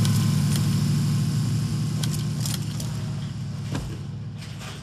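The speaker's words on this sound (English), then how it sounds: "Yeah, vehicle coming." Vehicle engine in the game PUBG, a steady low droning hum that holds throughout and slowly fades a little, with a few faint clicks and rattles over it.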